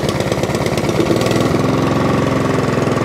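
A Mountfield 474 lawnmower engine, just repaired with a cleaned air filter and new spark plug, idles steadily up close, a loud, even chugging with a rapid knocking rhythm that holds throughout.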